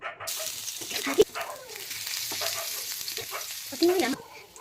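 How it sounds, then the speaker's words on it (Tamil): Loud sizzling and crackling of ginger garlic paste frying in hot oil, with stirring scrapes and a sharp clank, continuous throughout. "எண்ணெய் சூடாக இருந்தும் இஞ்சி பூண்டு பேஸ்ட் போடணும்."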